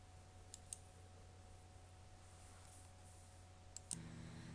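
Mouse buttons click in game design software, with a few sharp isolated clicks spaced apart over a quiet room hum, faint and close.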